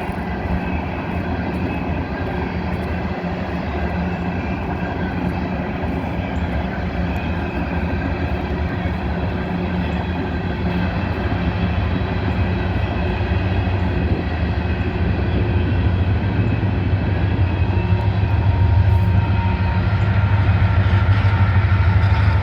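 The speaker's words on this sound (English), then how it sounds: "Two locomotives pushing. They got 4 engines on this coal train." Coal train hauled by four locomotives, two of them pushing at the rear, rumbles past steadily with a loud, continuous diesel drone and rolling rail noise that holds for over twenty seconds, with no voices.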